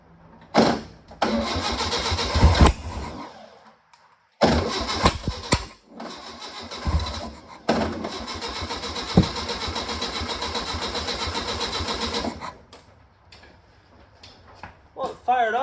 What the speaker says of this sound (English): Well, it fired off a little.